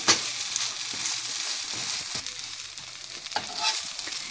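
A mutton kari dosa spread with egg cooking on a hot griddle, a close, steady frying hiss with a few soft scraping and tapping touches, no one speaking.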